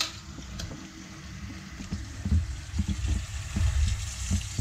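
Tap water runs onto freshly cooked carp sausages to cool them, a steady close splashing flow with irregular sloshes and small knocks throughout, no voices.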